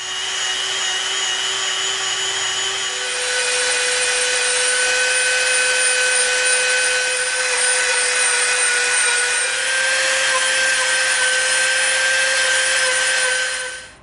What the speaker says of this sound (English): we're going to get out our Dremel, and we're going to put our dust mask on, and we're going to taper the edge of this all the way around